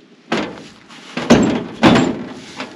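A sagging door on an old Dodge dump truck is forced shut in three heavy metallic slams, each a loud close thunk with a brief rattle, spaced about half a second apart.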